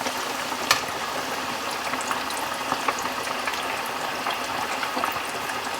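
Catfish nuggets deep-frying in a pot of hot oil give a loud, steady bubbling sizzle with crisp pops and crackles throughout, close up and with no voices over it.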